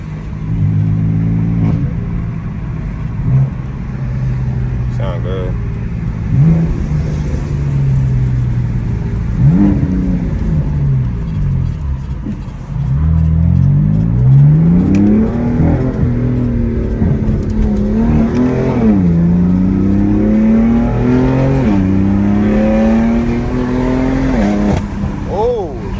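A straight-piped BMW M4 drones loudly through its exhaust, the engine note climbing and falling through repeated revs and gear changes over about half a minute, heard from close by inside the moving car.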